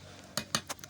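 A spoon stirring potatoes and water in a cooking pot for Bengali shukto, three or four light metallic clinks and scrapes at close range against a quiet background.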